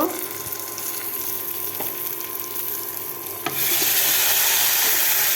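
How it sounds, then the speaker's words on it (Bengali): Potatoes fry in oil in a pan with onion and green chilli, a quiet steady sizzle that suddenly swells into a loud, bright crackle partway through. "আলুটা এখন লাল লাল করে ভেজে নিব"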